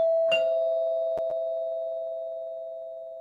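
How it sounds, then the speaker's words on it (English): An electronic doorbell sounds a single sustained tone that holds steadily for several seconds, marked by a few sharp clicks along the way and another at the end. "If you start ringing my doorbell one more time"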